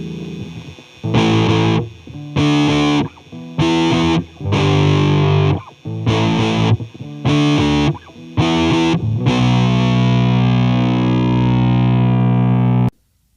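Electric guitar played through an amp simulator patch on a Zoom R8, producing a series of heavily distorted chords in short chopped bursts, then a final chord left ringing out before cutting off abruptly, no talking.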